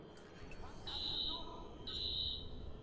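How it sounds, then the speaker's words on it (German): An alarm in the video game Watch Dogs sounds as two long, shrill electronic tones over a rumbling game background. "Alarm ist ausgelöst."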